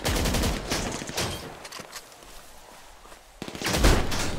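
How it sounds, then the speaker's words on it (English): Sharp bursts of rapid gunfire erupt in a motel shootout in GTA V Online, a fast volley at first, then a quieter lull with scattered shots, before another close, loud burst of automatic fire. "gunshots! What are you guys shooting at?"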